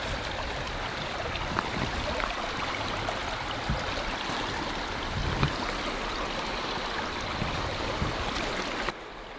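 Steady broadband rush of a creek flowing across a crossing along the Buffalo River in Arkansas in winter, continuous and fairly close, with no talking.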